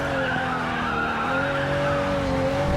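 Tires of a Pagani Huayra BC '17 screech in a sustained skid in the Racing Master video game, mixed with loud engine drone, continuous and close, no talking.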